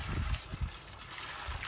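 Water is poured into a dusty concrete mix for setting a DIY fence gate post, giving a soft, steady trickle and splash close by, fairly quiet with no talk.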